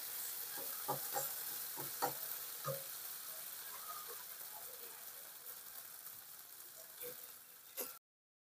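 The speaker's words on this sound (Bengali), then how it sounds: "কষিয়ে নেব যতক্ষণ না মশলা থেকে তেল না ছেড়ে যায়" Spice masala frying in oil in a pan for a Bengali mixed yogurt chicken curry, a steady soft sizzle broken by a series of scraping, clacking spoon strokes as it is stirred, fairly quiet and close.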